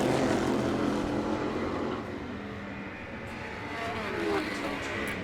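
A long-bodied red and blue 1964 Ferrari GTO racing car roars past on the circuit at Goodwood Revival, a loud engine drone that recedes slightly and then swells again.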